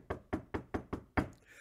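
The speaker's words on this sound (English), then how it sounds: "There's a knock at the door." Five sharp knocks on a door in an even, quick rhythm, close and loud, with no talking.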